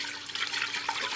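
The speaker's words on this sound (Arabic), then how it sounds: "هجيب حله وهحط فيها 6 كوبايات حليب جوز هند" Coconut milk poured into a cooking pot, a brief, close liquid splash and trickle with a soft rushing wash.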